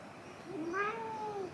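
A cat gives a single clear, drawn-out meow that rises and then slowly falls, close by in a quiet indoor room.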